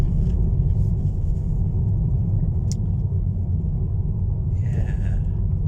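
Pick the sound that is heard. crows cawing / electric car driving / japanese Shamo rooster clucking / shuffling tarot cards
electric car driving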